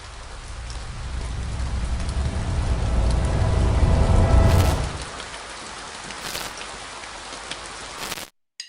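Steady green rain falls in the Stardew Valley video game, building to a heavy wash of patter before thinning to light drizzle with occasional brief sharper hits.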